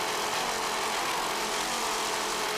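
Inboard engines of racing powerboats at an offshore powerboat race roar in a steady, loud, dense drone that holds unbroken throughout, with no voices over it.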